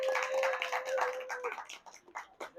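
Audience clapping at an astronomy talk held in a bar, broad and fairly quiet, with a steady tone under it early on. The applause thins into scattered individual claps toward the end.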